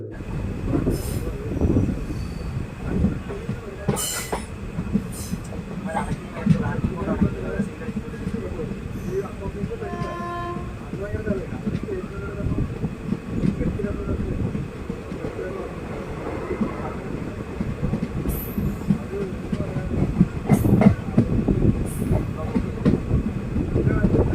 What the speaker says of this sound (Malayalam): ട്രെയിൻ അങ്ങനെ അപ്പം വീണ്ടും തുറവൂർ റെയിൽവേ സ്റ്റേഷനിൽ നിന്ന് പുറപ്പെട്ടിരിക്കുകയാണ്.